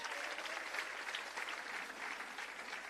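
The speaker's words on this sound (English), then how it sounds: "Give them a round of applause for their musical contributions." Applause from an audience at an awards ceremony, a steady, fairly distant patter of many hands clapping continuously for a few seconds.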